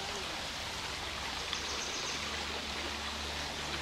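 A creek crossing on a hiking trail loop at Windy Hill Preserve, with water rushing in a steady, broadband wash that stays even and close throughout, no voices over it.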